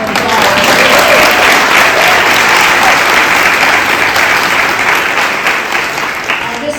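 A crowd of advocates and researchers at a White House women's health conference breaks into loud, sustained applause and cheering close by, holding steady before easing slightly at the end.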